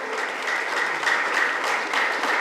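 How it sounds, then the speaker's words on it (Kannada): Audience applause at a blood donation camp event, steady dense clapping from many people lasting throughout, fairly loud and close. "ಎಲ್ಲರೂ ಕೂಡ ಜೋರಾದ ಚಪ್ಪಾಳೆ ನೀಡಬೇಕು."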